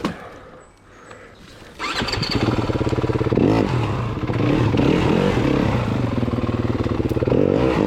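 A custom-built motorcycle's starter whirs faintly before the engine catches and bursts into a loud, steady running roar with rising revs and some mechanical clatter, all close by.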